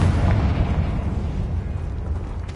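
Confringo spell explosion in Hogwarts Legacy: a heavy, booming blast with a rumbling low-end tail that stays loud and close through its short span.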